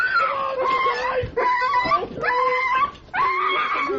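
A dog whimpers and yips in repeated high, whining bursts with short barks between them, loud and close, during a staged arrest prank broadcast on a radio show.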